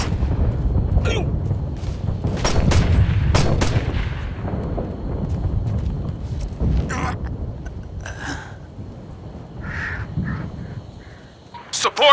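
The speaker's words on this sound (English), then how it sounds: "We're getting shot at." Combat gunfire in Operation Flashpoint: Red River, sharp broadband shots and booms spread across the clip amid a battle, with muffled radio-style voices and a crow-like caw mixed in.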